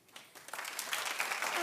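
Studio audience applause on a daytime talk show, swelling from scattered claps into steady, fairly loud clapping across a crowd.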